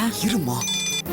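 A telephone ringing with an incoming call, its steady electronic ring tone running close and loud beneath a person speaking over it.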